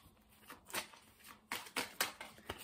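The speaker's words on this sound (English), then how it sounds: "Four major shuffles here." Tarot cards are shuffled close up and quietly, in a handful of short papery riffles and slaps spaced unevenly with brief pauses between them.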